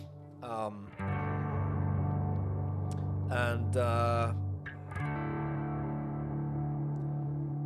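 Sustained electric guitar chords drenched in reverb and chorus, swelling and ringing out, with a few brighter picked notes cutting through.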